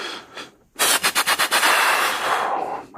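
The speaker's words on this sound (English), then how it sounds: "10-4, shots fired." Rapid burst of about six gunshots fired close to police officers, loud sharp cracks in quick succession followed by a lingering roar of echo, after a brief quieter stretch.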